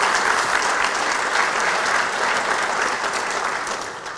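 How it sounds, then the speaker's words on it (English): An audience claps steadily at a hall of fame induction ceremony, dense sustained applause from a crowd indoors that fades slightly at the end. "Let's give another round of applause for Sammy Triplett."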